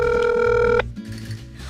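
A telephone rings with a steady electronic tone for just under a second, loud and close, then cuts off, leaving low background noise.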